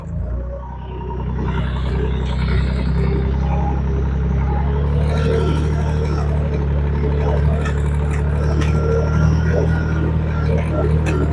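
A JT5WL800 compact wheel loader reverses nearby with a steady low diesel rumble and engine drone that holds constant throughout, with a faint voice briefly audible in the background.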